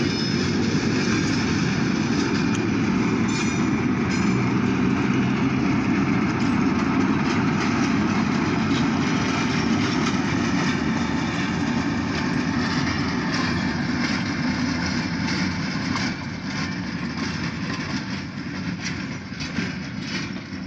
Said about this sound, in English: They might be picking up that Alco 85 maybe.